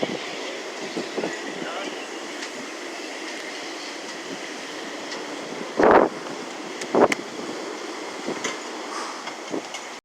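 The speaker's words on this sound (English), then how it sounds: "Didn't feel like it was that much wind until I got out of the car." Strong wind from Hurricane Dorian buffets the microphone in a steady rushing roar with several sharp louder gusts, heard close and outdoors near a car.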